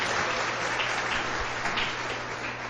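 A church congregation applauds after a sermon on chastity, with steady, dense clapping that fills the whole stretch at moderate loudness and no voices over it.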